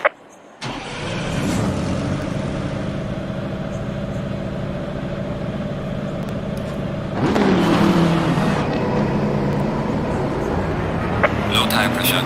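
Race cars in the Assetto Corsa Competizione sim run together in a pack, giving a steady, loud engine drone that rises into a sharper revving surge partway through.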